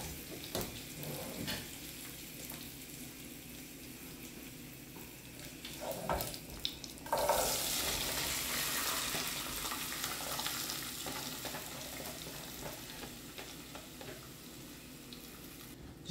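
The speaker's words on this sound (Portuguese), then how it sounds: "tô fritando um pouquinho esse alho aqui" Garlic and chayote fry in a pan with a steady low sizzle, occasional clinks and a brief louder hiss as something is stirred in.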